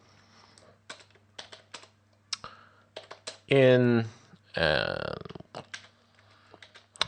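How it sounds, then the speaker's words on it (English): Someone types on a computer keyboard in quick bursts of clicks with pauses, fairly quiet and close, while a person talks briefly in the middle. "so that was my awesome typing skills"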